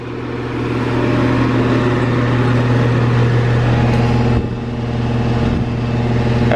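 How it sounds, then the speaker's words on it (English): A Rheem Classic central air conditioner with its fan motor running, a loud, steady hum and drone with a constant whirring tone, briefly dipping once before carrying on. "Fan motor's as loud as ever."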